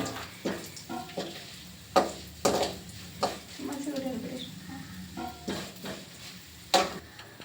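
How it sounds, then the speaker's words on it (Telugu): Cumin, pepper, curry leaves and asafoetida fry in a pan, a low crackling sizzle broken by repeated clinks and scrapes of a stirring spoon, with someone talking over it. "కరివేపాకు అని ఇంగువ అన్నీ వేసేద్దాము. వేసేసి ఇలా ఫ్రై చేసుకొనేసి"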